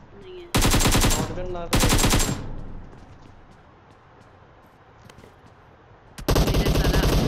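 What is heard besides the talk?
machine gun fire in PUBG Mobile video game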